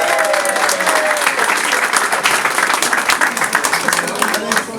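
An audience at a campaign launch event gives sustained applause, dense, loud clapping filling the whole stretch with some crowd voices underneath.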